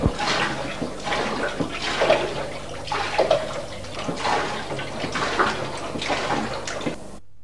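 A Sealand pump pushes water while a 2-inch piece of foam is in it, making continuous loud sloshing and gurgling with uneven surging bursts throughout.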